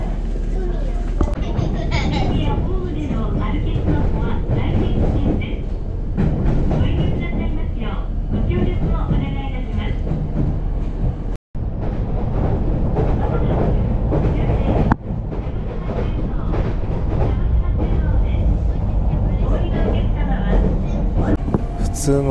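A JR Kyushu train rumbles steadily along the tracks near Kagoshima with a constant low roar and rattling, a brief dropout midway, and no talking.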